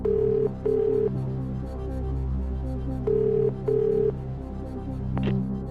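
A telephone rings in the Who Wants to Be a Millionaire video game, sounding as two pairs of clean electronic ring bursts over a low, steady musical drone.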